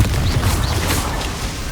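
A Confringo explosive spell goes off in Hogwarts Legacy with a heavy booming blast and rumbling crackle, loud and close over less than two seconds.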